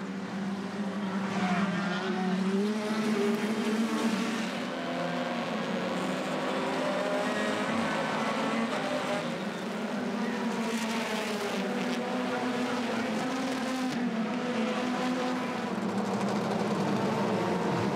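British Touring Car Championship cars race at Donington Park, a steady loud roar of engines at full throttle with layered revving and passing cars, continuous throughout.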